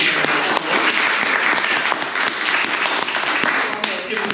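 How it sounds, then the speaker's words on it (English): Close, lively applause from a small audience for Jim, uneven clapping with distinct individual claps, and a voice or two mixed in beneath the hands. "I'd love everyone to join me in giving Jim a applause"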